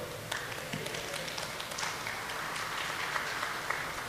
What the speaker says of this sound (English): Only the professors are clapping